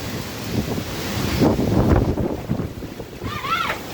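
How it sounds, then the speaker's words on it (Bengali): Storm wind from a Kalbaishakhi squall roars as a steady broadband rush, swelling louder midway through, with a person speaking over it and a brief whistling tone near the end. "দেখো কত কত তুফান"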